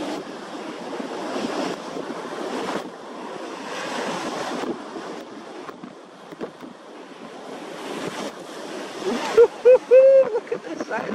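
Ocean swell of three to five feet, arriving at nine-second intervals, breaks and shoals close by as loud surging washes with wind rumble on the microphone, and a voice speaks briefly near the end.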